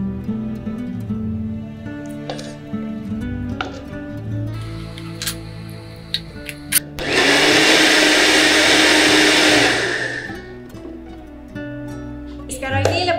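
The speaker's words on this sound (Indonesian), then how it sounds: "So sekarang ni kita nak blender dulu barang-barang dia." An electric blender grinds ingredients for ayam masak merah sauce, a loud steady whirring roar lasting about three seconds, preceded by clinks and handling noises with a person talking nearby.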